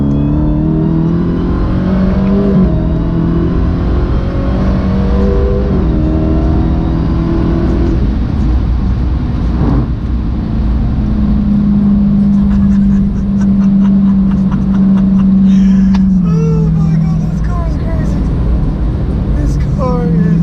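A Dodge Demon or Viper accelerating hard, its loud engine note rising and shifting through gears in a steady drone, with a person talking over it inside the cabin.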